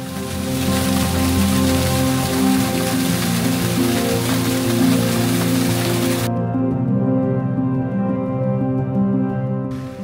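Drizzling rain with mist at Ponmudi hill station in Kerala makes a dense, steady hiss that fills the air throughout, thinning slightly partway through.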